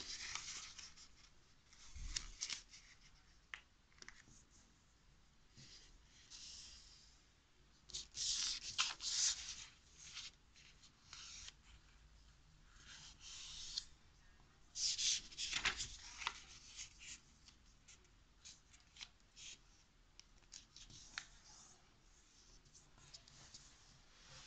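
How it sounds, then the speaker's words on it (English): Soft, intermittent rubbing and scraping of paper being folded and creased into origami, corners folded in to make triangles, with brisk swipes and crinkles in bursts, close by and fairly quiet, no talking. "we're going to fold in the two corners to make triangles"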